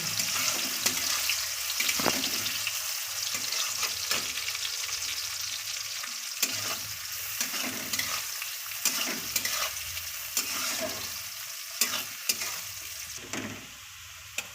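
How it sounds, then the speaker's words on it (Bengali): Chopped onions fry in hot oil for Bengali chicken kosha, a dense continuous sizzle and crackle up close, with repeated scraping stirs against the pan. "এর মধ্যে আমরা পেঁয়াজ কুচোনোগুলো সেগুলো দিয়ে দিচ্ছি আমরা পেঁয়াজ থেকে একটু লাল লাল করে ভেজে নেবো"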